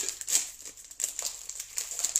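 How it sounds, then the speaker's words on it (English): A plastic cheese wrapper being sliced open with a blade, giving close, faint crinkling and tearing scrapes in a few short bursts with no talking. "Slice it open with a blade."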